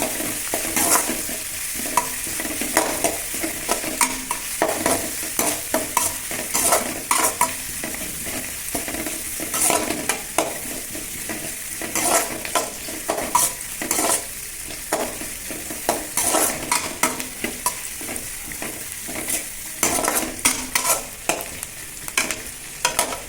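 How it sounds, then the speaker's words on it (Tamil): Curry leaves and mutton are fried and stirred until browned, with a continuous loud sizzle broken by frequent scraping, clattering spoon strokes against the pan throughout. "கருவேப்பிலை போட்டு நல்லா வதக்கணும். ப்ரௌனிஷாக வரணும்."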